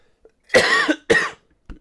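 A person coughs twice in quick succession, close and fairly loud, followed by a faint short rasp after a pause in otherwise quiet surroundings.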